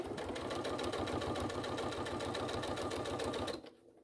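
A sewing machine top-stitches a patchwork piece with pleather, running a fast, even mechanical chatter of rapid stitches that stops abruptly near the end, leaving quiet room sound.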